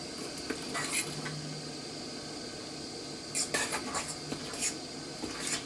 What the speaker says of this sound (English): But I'll just keep continually stirring it.